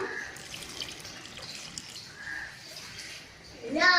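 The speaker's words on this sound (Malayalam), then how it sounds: "നമുക്ക് ഒന്നാം പാൽ ഒഴിച്ചു കൊടുക്കാം" Thick first-press coconut milk pours into a pot of Kerala olan, a soft liquid stream and gurgle over faint background hiss, ending in a brief louder splash, with no speech.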